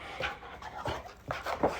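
A female dog whimpers and pants in short, soft bursts spread across a brief, close-up moment, with no talking.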